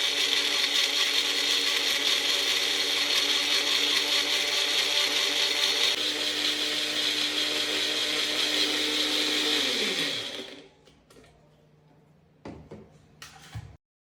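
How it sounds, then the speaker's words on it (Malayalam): A mixer grinder jar grinding large tomatoes into a thick paste with no water added, a loud steady whirring drone that runs for about ten seconds, then winds down and stops, followed by a few faint clicks and knocks. "അത് ഒരു മിക്സീൻ്റെ ജാറിലേക്ക് അതിലേക്ക് ഇട്ട് കൊടുക്കുന്നുണ്ട് എന്നിട്ട് നന്നായിട്ട് പേസ്റ്റ് നല്ലോണം അരച്ചെടുക്കുക"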